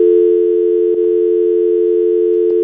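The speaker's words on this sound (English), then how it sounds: "Why is there just a dial tone? It's not dialing." A telephone dial tone hums as a loud, steady, unbroken line, with only a couple of faint clicks over it and no voices.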